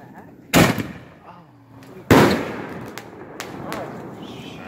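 Backyard fireworks exploding on the ground at a Thanksgiving gathering, two sharp loud bangs a second and a half apart followed by fainter crackles and pops, with people talking in between.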